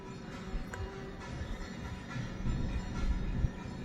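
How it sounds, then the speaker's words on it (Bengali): Freight train rolling into Sankrail station, a low continuous rumble of wagons on rails with faint metallic clanks, building slightly toward a sharp knock near the end, heard from trackside with no talk. "এটা হচ্ছে সাকরাইল স্টেশনে ঢুকছে এই ট্রেনটি। এটা মালগাড়ি।"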